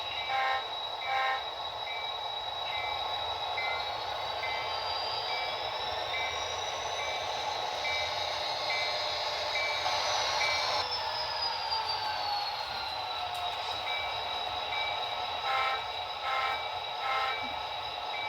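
Trains move through the Garrettville rail yard in a continuous mechanical rumble with a long tonal whine that rises and falls, mixed with faint clanks and steady from start to finish.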